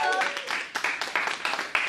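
A classroom of students claps for a classmate in a quick, regular rhythm of short bursts, following a brief voice at the start.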